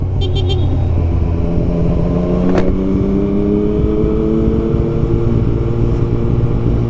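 A motorcycle with an aftermarket exhaust runs close and loud, engine droning steadily with shifting revs and a short horn-like toot early on.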